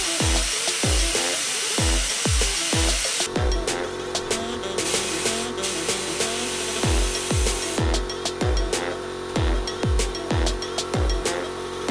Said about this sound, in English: I got sand in the gun ready. Wow, there's a lot of sand coming out,